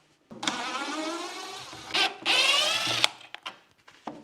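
Power drill whirring steadily as it backs screws out of an old window frame in a farmhouse under renovation, with a long run, a short burst, then another sustained spin before stopping and a few clicks and knocks.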